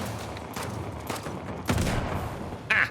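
A gun firing in the game Uncharted Lost Legacy: a few spaced, sharp reports crack out over a low background rumble, with a final bright burst at the very end.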